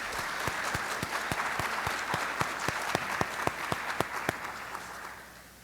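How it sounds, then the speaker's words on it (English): Audience applause for high school students after capstone engineering project presentations, a steady wash of clapping with distinct sharp claps standing out, fairly distant and fading toward the end. "Let's have another round of applause for the students."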